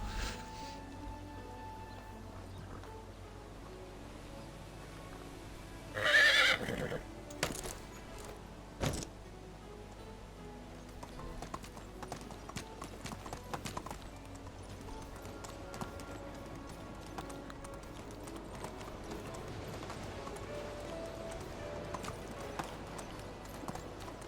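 Horse hooves clip-clopping steadily at a riding pace in the medieval village game Medieval Dynasty, with a brief louder burst of rustling midway and faint background game ambience throughout.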